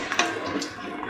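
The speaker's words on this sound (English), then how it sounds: "Pour in 200 ml of water." Water poured into a pan of mung bean and carrot rice, a short soft splashing pour close by, quiet and brief with no talk.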